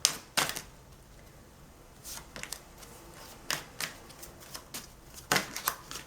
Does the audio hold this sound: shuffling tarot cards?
yes